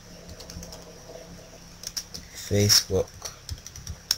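Quick bursts of computer keyboard typing, a few short runs of key clicks, mixed with someone speaking throughout.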